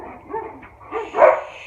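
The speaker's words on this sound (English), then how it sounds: "Somebody's at the back door. Here come the dogs." Dogs barking at someone at the back door, a few short bursts rising near the end, loudest around the final bark, moderately close indoors.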